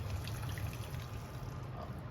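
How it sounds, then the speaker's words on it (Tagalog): Hot water poured into glutinous rice cooking for champorado chocolate rice, a soft, steady trickle heard faintly at close range. "So, mag-add tayo ng 1 cup na mainit na tubig."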